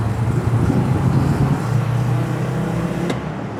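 A Mercedes-Benz G-Wagon drives along a road, its engine and tyre noise a loud, steady rumble heard from inside the cabin that eases slightly toward the end.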